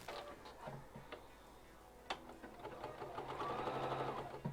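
A home sewing machine stitches a piece of test fabric for a travel bag, giving a steady mechanical whirr with a fast needle rhythm. Scattered clicks come first, then the run builds and holds louder toward the end.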